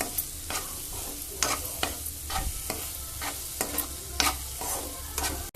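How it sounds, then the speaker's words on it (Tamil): Mango pickle with mustard seeds and fenugreek stirred in hot oil: repeated rhythmic spoon scrapes against the pan over a soft continuous sizzle, close and moderately quiet. "கடுகு வெந்தயம் அதையும் போட்டுக்கணும் போட்டு நல்லா கிண்டிடணும்"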